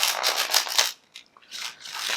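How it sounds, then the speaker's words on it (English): Tarot cards being shuffled by hand, several quick papery riffling bursts, then a brief pause before a final burst of shuffling; close and fairly soft with no talking. "One last shuffle."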